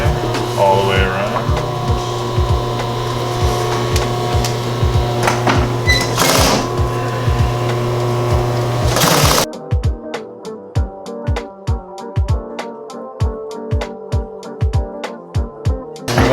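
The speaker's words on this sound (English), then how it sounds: "we're just going to run a top stitching line all the way around" Sewing machine top stitching a leather duffle bag, running in bursts of rapid mechanical ticks, then a clearer, evenly paced run of stitches with short pauses between.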